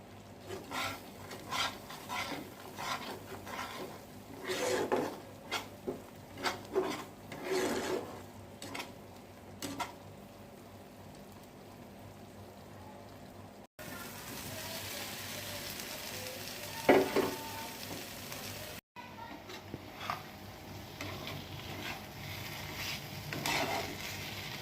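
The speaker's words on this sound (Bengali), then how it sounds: "আলুটা দেওয়ার পরে একটু ভালো মতন কষিয়ে নেওয়ার পরে আমি জল দিয়ে দেব।" Fried potatoes sizzle and get stirred in a sesame-paste masala for a vegetarian paneer dish, with steady frying hiss and repeated scraping strokes of a spoon against the pan throughout.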